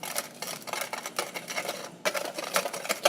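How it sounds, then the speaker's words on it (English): A whisk clatters rapidly against a bowl while mixing sparkle slime, giving fast, irregular clicking and tapping strokes up close at moderate loudness. "Now get a whisk. Doesn't really matter what size, preferably smaller, just so that you can mix it."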